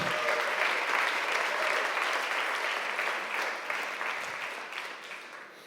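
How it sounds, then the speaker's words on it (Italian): A church congregation applauds, a broad sustained wash of many hands clapping that holds steady and then slowly fades toward the end, with no talking over it. "Applauda al Signore."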